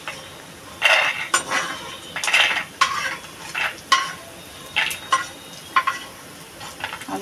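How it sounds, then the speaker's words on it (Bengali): Lentil dumplings (bori) frying in oil in a kadai, with a steady close sizzle broken by repeated bursts of stirring and spatula scraping against the metal pan, a few sharp clinks among them. "বড়িটা একটু হালকা লাল লাল করে ভেজে নেব"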